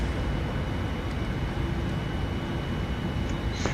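Steady broadband jet engine roar of a Boeing 787-9 taking off at night in the FSX flight simulator, continuous and fairly loud, with no talk.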